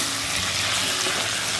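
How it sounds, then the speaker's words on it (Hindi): Chicken pieces cooking in a pan for methi chicken give a steady, close sizzle, a continuous broadband hiss of frying with no pauses and no voices. "अभी चिकन डाल के थोड़ा पकने रखे थे हमने।"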